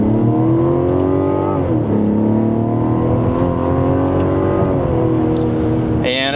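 Full-throttle acceleration in a 2026 Mazda CX-70 Turbo S Premium Plus in sport mode and second gear: a loud, steady engine drone climbs in pitch, dips briefly at a shift, then climbs again, heard from inside the cabin.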